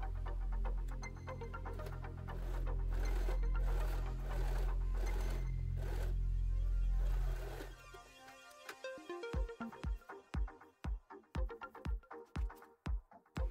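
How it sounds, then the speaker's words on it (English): A sewing machine stitches a zipper onto a fabric cover for an IKEA chair, first as a loud steady whirring run, then as slower, separate mechanical thumps and clicks close by. "Time for the sewing machine. Sew the zipper on first."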